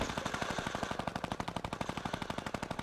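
Rapid automatic gunfire from players shooting in the mobile version of Fortnite, a dense, steady stream of loud, evenly spaced shots running without pause for about three seconds.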